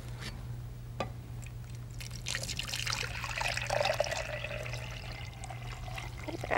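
Sugar water pours into a beaker, a close trickling splash that swells in the middle and tapers off, over a steady low hum with a few clicks.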